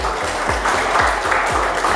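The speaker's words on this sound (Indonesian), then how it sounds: "Tepuk tangan buat Bapak." A crowd applauds a 66-year-old bus driver with nearly 30 years behind the wheel at a safe-driving training session, a dense, steady clatter of many hands with a few dull low thumps pulsing through it.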